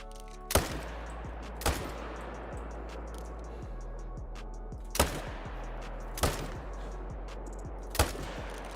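Rifle shots while hunting whitetail deer in Call of the Wild, five or six sharp, loud single cracks spaced a second or more apart over a low steady hum, with faint ticking between.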